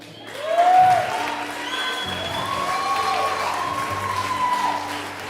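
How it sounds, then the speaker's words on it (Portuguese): A church congregation at an evening Catholic preaching service claps and cheers, a swelling burst of applause with whoops and shouts that carries on across the moment. "Pode aplaudir, irmão. Pode aplaudir."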